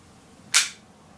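A single sharp crack from a WE M1911A1 airsoft pistol firing a BB at a target, brief and close, standing alone against a quiet background.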